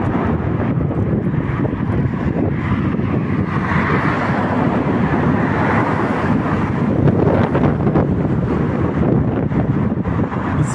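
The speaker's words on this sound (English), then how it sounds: "It's very windy out here, as I said. Very, very windy out here." Strong wind buffets the microphone in a constant low roar on a walk through woods, loud and unbroken outdoors, with no talking.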